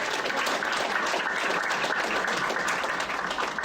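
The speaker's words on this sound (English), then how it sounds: "So we're still give a big hand of applause to Ms. Nowakowski." An audience at a school governing board meeting applauds, a continuous even patter of many hands clapping throughout, moderately loud and without speech.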